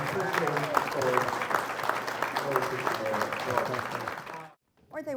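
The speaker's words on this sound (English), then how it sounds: "Give them a big round of applause." Audience applause at a historical fireside evening in Washington City, Utah, loud steady clapping mixed with voices that cuts off abruptly near the end, followed by a brief resumed sound.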